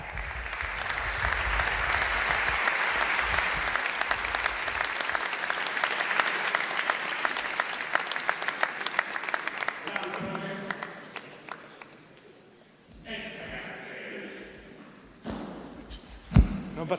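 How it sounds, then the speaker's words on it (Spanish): A gala audience applauds a performer with dense, sustained clapping for about ten seconds, which then fades to scattered claps, thumps and murmuring in the hall. "un fuerte aplauso para Fran Juesas"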